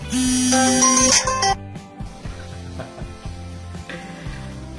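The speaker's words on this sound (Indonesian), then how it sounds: "ada telepon dari kantor" A phone rings with a loud electronic melody that cuts off after about a second and a half, followed by quieter tonal sounds indoors.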